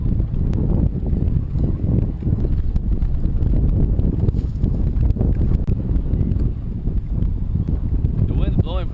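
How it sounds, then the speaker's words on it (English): Strong south-southeast wind blows across open water during a kayak fishing trip, making a loud, continuous buffeting rumble with gusty surges. "The wind's blowing from the south-southeast pretty good, 10, 15."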